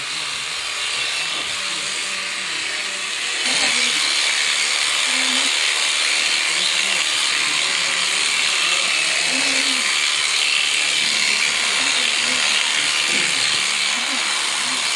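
An electric shearing machine clips a sheep's wool, a continuous high buzzing whine that grows louder as the cutter bites in, with faint handling sounds and a voice speaking now and then beneath it.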